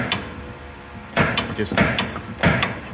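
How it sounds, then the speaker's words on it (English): Metal hammer blows driving a pin into a Polaris RZR 1000 drive shaft, three loud sharp strikes spaced about a second apart over a low mechanical background, with a brief word spoken at the start. "Once the pin is there, you're just gonna hammer it in place."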